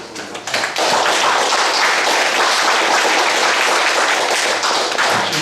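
A seated audience at a Korean evening book talk with former minister Yoon Yeo-jun bursts into warm applause, rising quickly after a brief quieter start into dense, steady clapping that fills the room for several seconds.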